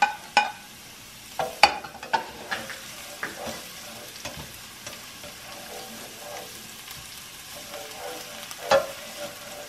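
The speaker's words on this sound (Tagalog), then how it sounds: "Tapos, sundan natin ang bawang. Gisa lang." Garlic sautés in a pan for a simple fish escabeche, giving a soft continuous sizzle broken by several sharp clinks and scrapes of a utensil stirring against the pan, close and moderately loud with no speech.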